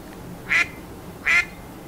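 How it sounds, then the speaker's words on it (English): A duck quacks twice, evenly spaced, each quack short and nasal against a quiet background with no voices. "Duck."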